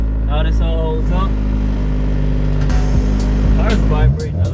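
A turbocharged Honda Civic on a test pull, its engine droning loud and steady throughout with a low rumbling hum, while people talk over it.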